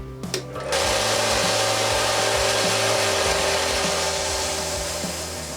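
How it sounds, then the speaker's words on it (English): A belt sander thins the tail wing of a small wooden toy plane, starting after a brief clatter and then running as a loud, steady grinding whir with light background music. "I will start by making the tail wing a little bit thinner on the belt sander"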